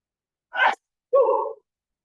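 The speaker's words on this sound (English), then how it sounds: "Oh, gotta sneeze, hang on, keep going." A man sneezes once, close and loud: a sharp breathy burst followed by a short voiced tail, during an indoor boxing exercise class.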